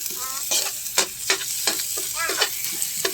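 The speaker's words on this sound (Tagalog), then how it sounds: "Halu-haluin lang natin yan." Onions and liver frying in a pan, stirred with a utensil: loud close sizzling with repeated scraping strokes against the pan, alone without talk.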